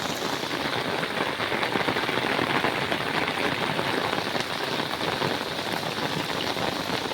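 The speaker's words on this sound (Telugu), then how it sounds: "భారీ వర్షం హైదరాబాద్లో వస్తుంది" Heavy downpour in Hyderabad drums steadily and densely on surfaces, a constant close hiss of rain with no pauses and no voices.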